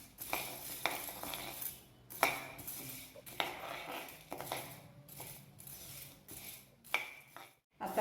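Dry urad dal roasting in a pan over a low flame, soft intermittent rattling and clinking as a utensil scrapes and stirs the lentils, quiet and close, with short pauses between strokes.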